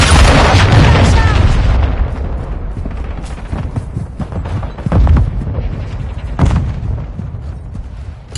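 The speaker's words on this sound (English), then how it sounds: "Hostile cruise missile incoming." A cruise missile strike in Call of Duty MW2: a heavy, close blast opening the clip, followed by rumbling booms and scattered gunfire-like thuds, with game voice lines over the battle noise.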